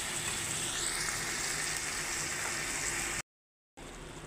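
Spiced bottle gourd for Bengali lau chingri sautés in a pan with a steady, loud, close hiss of frying that runs unbroken, cuts out briefly, then resumes.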